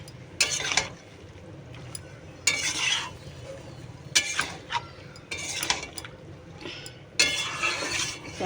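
Fish cooking in a pan is stirred with a metal utensil, giving bursts of scraping and clinking against the pan over a soft background sizzle, close and intermittent.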